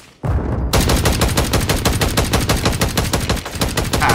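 Rapid sustained automatic fire from the AMR9 in Warzone 3, a loud, evenly spaced stream of close gunshots that starts abruptly after a brief quiet moment and keeps going with no voices.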